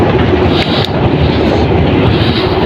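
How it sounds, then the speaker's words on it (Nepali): A train rushes past close by, a loud, continuous roar of wheels and rumble filling the whole moment with no voices. "यो ट्रेनको आवाज त म टाउको खाइसकौँ"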